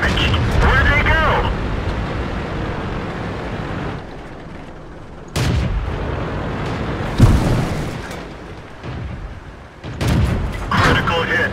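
Tank cannon shots and shell impacts from a tank video game, several sharp booming bursts spaced unevenly across the stretch with background game rumble, while a voice talks over parts of it.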